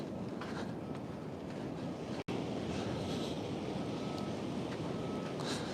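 Ocean waves wash onto a Southern California beach in steady surf noise, with wind buffeting the microphone. The sound is a faint, continuous roar with no voices.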